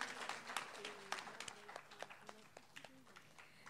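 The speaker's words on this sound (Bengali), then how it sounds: "একটু হাততালিটা আরেকটু জোরে হওয়া উচিত" Audience at a school cultural programme and creative writing workshop prize announcement clapping in a brisk scattered burst that thins out, with voices talking over it.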